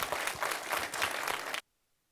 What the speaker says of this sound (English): Can we give a round of applause to this remarkable panel?